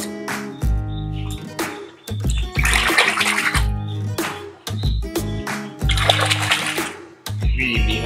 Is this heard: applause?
no